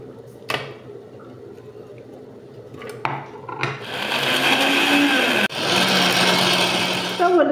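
A food processor blends strawberries and pomegranate, starting with a few clicks and knocks before the motor kicks in to a loud, steady whirring grind with a brief stop and restart.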